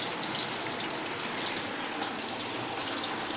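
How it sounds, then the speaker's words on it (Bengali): Water pours steadily into a fried spice mixture while making butter paneer: a continuous, close gushing splash lasting a few seconds with no talk. "মশলাটার মধ্যে একটু জল দিতে হবে"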